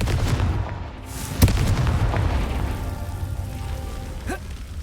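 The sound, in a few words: Confringo blasting spell explosion in the video game Hogwarts Legacy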